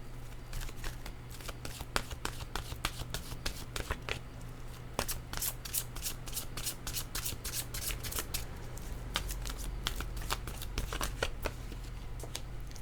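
Oracle cards being shuffled by hand, a continuous run of crisp riffling flutters and papery snaps close up, steady throughout with no talking.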